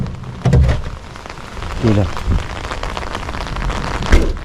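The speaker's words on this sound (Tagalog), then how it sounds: "Kaya suungin na natin ang ulan." Steady rain pours down outdoors with a constant hiss, while people talk and exclaim close by over the downpour.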